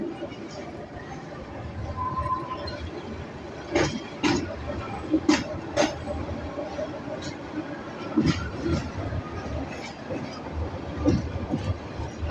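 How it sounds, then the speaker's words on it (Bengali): A passenger train runs along a railway line in Bangladesh near Bhotmari station, a steady rumbling roll with several sharp clanks and rattles, heard from on board under light background chatter. "ট্রেন চলাচল শুরু হলো"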